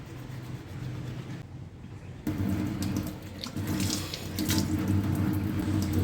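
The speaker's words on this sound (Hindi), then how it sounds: "बस पानी से मुँह धुलती हूँ।" Tap water running into a sink while someone washes their face, a steady splashing flow that briefly drops away and then returns stronger and closer with uneven splashes and no talking.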